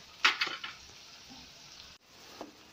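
Oats pakoras fry in hot oil on a high flame, a soft sizzle under clinks and scrapes of a utensil stirring them in the pan.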